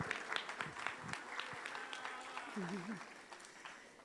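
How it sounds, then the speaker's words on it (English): Faint audience applause at a Kuchipudi arangetram dance recital in Chicago, a soft, distant wash of clapping with a few voices murmuring over it. "Please give her a round of applause"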